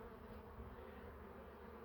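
Honeybees buzz around an opened beehive during a spring inspection, a steady low droning hum from many insects, close and continuous with no talk.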